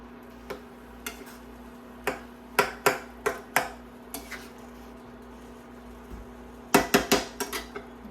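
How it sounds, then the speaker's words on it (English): A metal spatula strikes and scrapes the bottom of a pan while taco filling cooks, giving sharp clinks scattered across the clip, with a quick cluster of several clanks near the end over a faint steady hum. "it's important to just kind of scrape the bottom with your spatula because it can get a little stuck"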